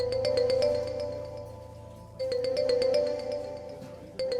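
A mobile phone ringtone plays a repeating electronic chime in a Pakistani drama scene, two ringing bursts with a short pause between them at moderate volume.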